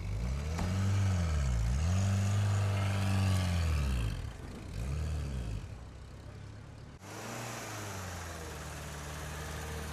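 A car's engine runs at close range, with a few quick rev swells that rise and fall before it settles into a steady, low idle rumble. No one speaks.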